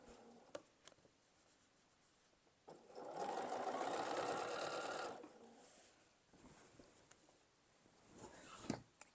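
A sewing machine stitches binding onto a quilt in one steady run of about two seconds, close and moderately loud, with quiet handling sounds of fabric before and after.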